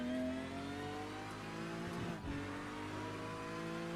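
In a racing video game at the Nordschleife, a race car engine revs high and steady, then drops briefly as it shifts down before climbing again, loud and continuous.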